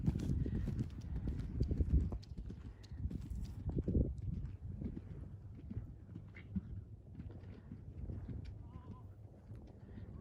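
Horse hooves clip-clop in a steady rhythm over low rumbling ground noise, fairly close and moderately loud, fading a little toward the end.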